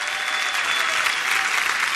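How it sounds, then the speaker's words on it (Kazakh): An audience at a talent contest applauds the competitors, giving dense, sustained clapping that stays loud and even throughout with no speech over it. "шапалақ ұрып отырыңыздар."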